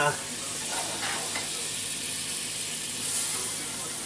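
A chunk of butter melting and sizzling in a hot cast iron pan before ribeye steaks go in, an opening burst of crackle settling into a steady frothy hiss, with no talk over it.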